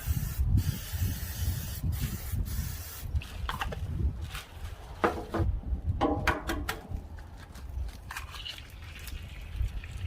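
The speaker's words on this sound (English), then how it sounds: "Got some spray butter." Spray butter hisses from a can into a pan in several short bursts, close and fairly quiet, with light kitchen clatter between sprays.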